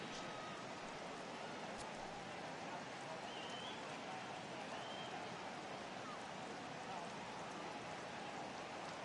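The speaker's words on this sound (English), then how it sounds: "Well, that rain is really coming down right now." Steady, dense rain hiss falling over a baseball stadium in a PS4 baseball game, a continuous even wash throughout with no clear talk on top.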